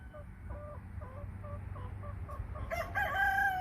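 An American Bresse cockerel crows loudly near the end, with softer clucking and fowl calls before it over a low steady background hum.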